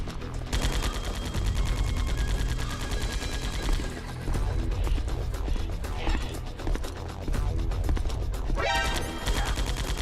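Gunfire in Metal Gear Solid: The Twin Snakes on the GameCube comes as rapid bursts of clattering shots with mechanical clicks, loud and close, continuing for several seconds with brief pauses between them.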